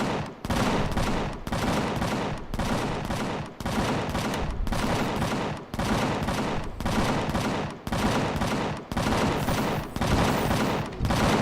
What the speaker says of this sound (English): The only problem with these guns is they're going off.